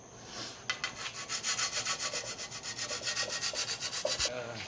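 A metal file is worked back and forth over a tool blade to sharpen it, a loud rhythmic rasping of about twenty quick, even strokes up close, with no talking.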